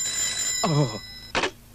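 A telephone rings in two short bursts separated by a pause, fairly close and loud over a quiet background.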